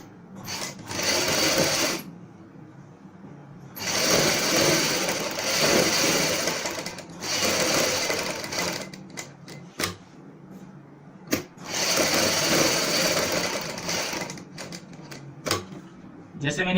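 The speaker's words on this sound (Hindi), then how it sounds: "अब हम बुकरम के साथ साथ यहाँ पे भी सिलाई लगाएंगे।" Sewing machine stitching a high kameez neck with buckram, running in close, steady rapid bursts separated by pauses, with someone speaking between the runs.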